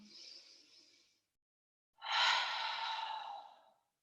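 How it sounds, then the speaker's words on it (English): A slow, soft breath drawn in, a pause of silence, then a longer audible exhale like a sigh, close and quiet, from a person in a calm exercise session. "Take a deep breath in and out."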